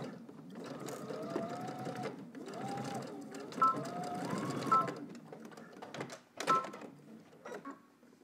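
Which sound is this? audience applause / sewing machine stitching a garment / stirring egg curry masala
sewing machine stitching a garment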